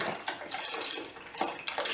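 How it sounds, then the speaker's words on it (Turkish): Milk poured into a cooled pumpkin dessert, a soft, close splashing trickle with small surges as the stream lands, fairly quiet and without talk. "Şimdi buna istediğimiz miktara süt ilave ediyoruz."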